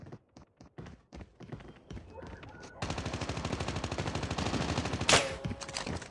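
Video game gunfire: scattered single shots at first, then a sustained rapid automatic burst, loud and close, with a sharp high-pitched crack near the end and voices calling out briefly.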